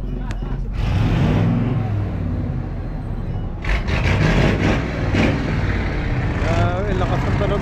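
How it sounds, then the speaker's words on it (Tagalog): A motorboat's loud engine rumbles and rattles nearby as the boat heads back to a mother boat, a steady roar heard under Filipino conversation between people on board. "Laka ng makina."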